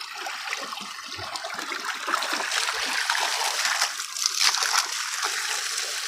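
Water gushes out of a pipe and splashes continuously, a strong rushing flow that swells slightly louder toward the end.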